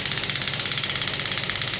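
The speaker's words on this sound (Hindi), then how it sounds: "मशीन टेबल पे है इसलिए थोड़ा वाइब्रेट करेगी ज़्यादा इंटेंसिटी में" A pneumatic shockwave therapy machine, rated 0.5 to 12 bar, runs on a table at high intensity. It gives off a rapid, even train of mechanical pulses with a buzzing rattle from the vibrating tabletop, steady and fairly loud throughout.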